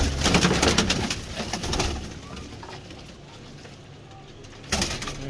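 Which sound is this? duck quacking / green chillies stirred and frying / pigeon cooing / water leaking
pigeon cooing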